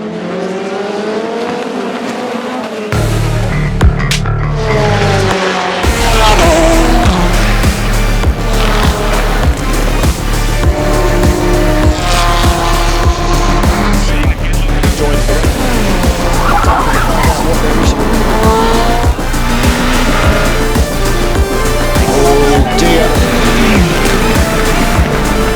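Ferrari and Corvette race cars battle at the 24 Hours of Le Mans in 2021, engines roaring loud and sustained with shifting pitch as they pass and accelerate, tyres squealing, and commentary running underneath.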